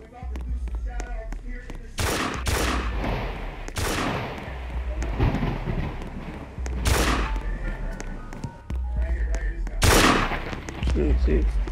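Sniper rifle fire in the video game Area 51: a handful of loud, sharp shots with booming tails, spaced a few seconds apart, over a voice talking throughout.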